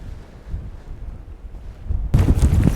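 Wind gusts roar and buffet the microphone outdoors in winter while a tent is being taken down, a steady low rumble that surges much louder near the end.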